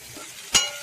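Ginger paste drops into a hot frying pan while chicken biryani is being made, giving one short, close sizzling burst over a low steady hiss of oil.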